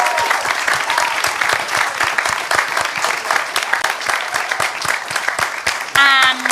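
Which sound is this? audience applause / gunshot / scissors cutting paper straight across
audience applause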